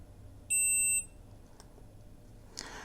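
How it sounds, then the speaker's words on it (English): A single loud, high-pitched electronic beep from a shot timer lasting about half a second, then quiet room noise and a small click. "this one back here is your actual beeper"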